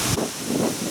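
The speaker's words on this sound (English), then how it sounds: "Wind's picking up." Outdoor wind gusts buffet the microphone in a brief, steady rush of broadband noise with low rumbling swells, no voices present.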